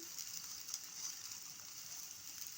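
Steady, soft sizzling of pancake batter frying in sunflower oil in a pan, a continuous hiss with faint crackles throughout and no talking.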